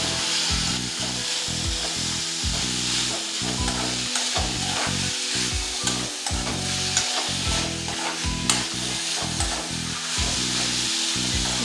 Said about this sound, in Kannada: ಸ್ವಲ್ಪ ಕೆಂಪಾಯಿತು ಟೊಮೆಟೊ ಹಾಕ್ತಾ ಇದ್ದೀನಿ